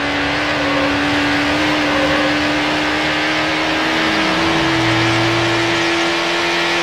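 Engine of a red Lamborghini Diablo in the racing game Need for Speed Hot Pursuit 2, a loud continuous engine drone that holds a steady pitch and then drops as the car shifts or eases off.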